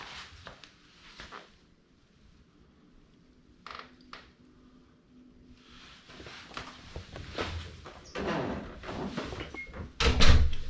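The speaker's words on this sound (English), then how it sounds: "Shut the door here and go down." A cabinet door in an underground garage swings shut with a soft knock, followed by rustling and handling clatter, ending in a louder bump near the microphone.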